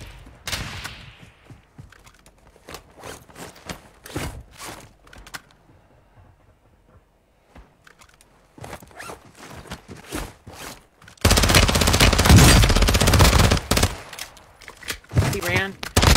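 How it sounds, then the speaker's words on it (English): Video game gunfire aimed at the player: scattered sharp shots and short bursts crack close by, a quiet lull follows, then a loud, sustained automatic barrage erupts and rattles on. "Oh, I'm getting shot at."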